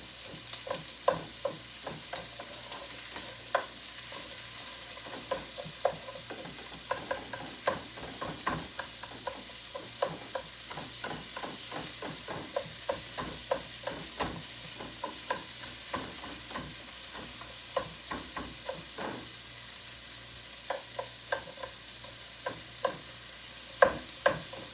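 Onions sautéing in a pan give a steady, close sizzle that runs throughout, broken by frequent scraping clicks as they are stirred.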